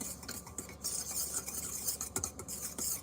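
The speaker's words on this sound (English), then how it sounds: "we're just gonna whisk it together." Whisk scraping and stirring steadily through a bowl of mixed dry flours and powders, a continuous close-up swishing rasp with light clinks, no talking.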